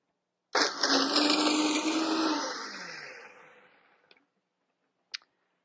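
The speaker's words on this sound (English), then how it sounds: "we're going to blend that before we add the remaining ingredients" A kitchen blender whirs onion flakes, starting abruptly loud and gradually slowing and fading over a few seconds, followed by a couple of small clicks.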